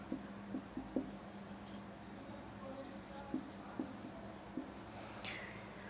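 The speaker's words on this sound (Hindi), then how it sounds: "तो आप उसको सिंपल सा मैं लिख देता हूँ।" Faint scratchy strokes and light taps from writing on a board during a Hindi-language UPPCS CSAT exam-prep lecture, coming in short, irregular marks over a quiet room.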